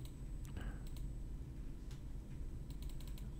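Faint clicks of keys being typed on a computer keyboard in a quiet room over a low steady hum, scattered taps arriving singly and in small quick runs.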